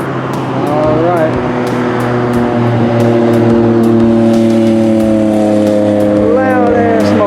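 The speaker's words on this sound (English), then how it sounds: "Loud ass motorcycle." Loud motorcycle passing by a post office construction site, engine note rising and shifting as it approaches and goes by, with a steady droning engine hum and sharp clicks throughout.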